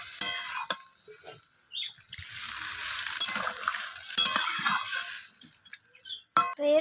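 Water is poured into a pan of fish curry made with green tomatoes, and it bursts into a loud, rushing hiss that dies down after a few seconds. Metallic scrapes and clinks from stirring come before and after, with no speech.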